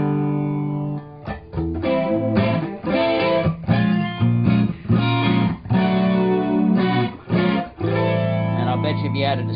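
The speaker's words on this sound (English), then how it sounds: "That's an analog flanger." Electric guitar chords through an analog flanger effect on a Line 6 M13, sweeping and whooshing, played loud and sustained over several strummed passages with brief pauses between.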